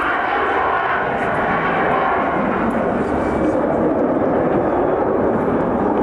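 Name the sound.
military jet aircraft flying at Farnborough Airshow 1992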